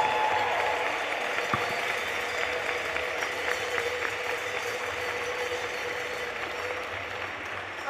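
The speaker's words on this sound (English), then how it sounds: "I think we should give them a huge round of applause" A crowd at an international under-17 netball event applauds the athletes with sustained, fairly even clapping that carries through the hall from a distance.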